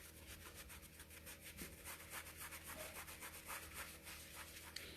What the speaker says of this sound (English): I'm just going to start buffing